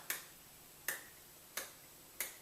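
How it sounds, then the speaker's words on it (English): Four light, crisp hand claps from a drummer's hand-strengthening exercise, spaced roughly two-thirds of a second apart, close and fairly quiet with short decays against a silent background. "put enough velocity into this clap that we actually get a sound."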